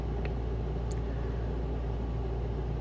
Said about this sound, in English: driving around in my RV